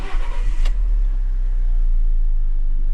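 Alfa Romeo 159 ignition being switched on, followed by the car's engine. A short burst of mechanical noise at the start gives way to a steady low engine hum that continues alone to the end.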